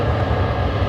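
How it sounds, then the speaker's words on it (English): A Jetstar jet takes off at Adelaide Airport, bound for Sydney, a loud low-pitched engine roar filling a brief moment with no talk. "All right, Jetstar 767 right now, heading off to Sydney. Off it goes."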